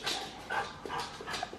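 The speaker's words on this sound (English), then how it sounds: "Oh, what are we going to do with this silly dog?" A dog pants quietly indoors at home, a series of soft, rhythmic breathy puffs with a faint whimpering edge, close but low in level, with no talking.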